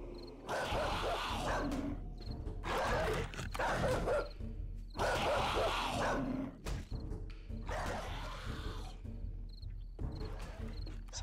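A dog barks in the survival game 7 Days to Die, sounding as about five loud, close bursts of repeated barking separated by brief pauses, with no talking.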